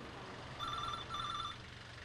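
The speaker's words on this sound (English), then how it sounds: "the phone started ringing" A telephone rings twice in quick succession, a faint electronic trill heard over steady low background noise.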